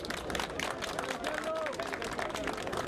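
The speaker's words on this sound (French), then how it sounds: "Applaudissez pour Mariamba, s'il vous plaît." A crowd at a Guinean diaspora gathering in France applauds, a continuous patter of clapping mixed with crowd babble and voices throughout.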